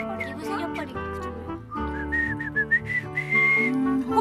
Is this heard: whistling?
yes